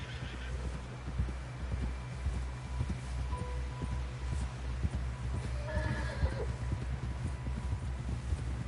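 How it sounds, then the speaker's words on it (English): In the video game Red Dead Redemption 2, a horse whinnies loudly over the steady clip-clop of hooves, with a rumbling low background throughout. "Someone help John down off this horse"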